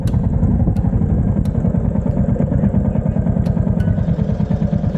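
A Royal Enfield motorcycle engine runs close by, a loud, steady low thumping with a fast regular pulse and mechanical clatter, lugging in first gear, with a few sharp clicks and no talking.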